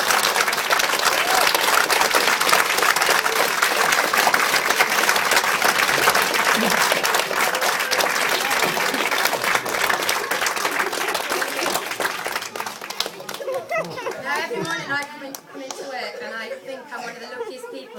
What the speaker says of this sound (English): needs a huge round of applause